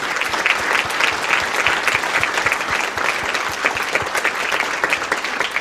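A large audience at a state Australian of the Year awards ceremony gives the four nominees sustained, dense applause that stays loud and steady throughout with little voice beneath it.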